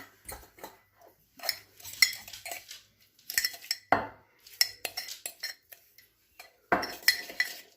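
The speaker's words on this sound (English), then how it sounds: "we're going to mix that up with a fork" A fork whisking egg yolk in a mug, quick clinking taps against the ceramic in short bursts separated by brief pauses, close and fairly quiet with no speech.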